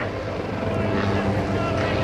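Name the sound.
airshow helicopter performing aerobatic maneuver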